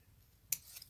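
Scissors snip through thread in a single quick, crisp cut, fairly close and alone in a quiet room.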